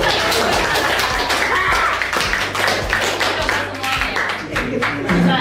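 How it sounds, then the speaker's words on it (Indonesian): Audience clapping hands in a room, a rapid, uneven patter of many claps lasting several seconds, mixed with talk and a little laughter. "Tepuk tangan juga dong."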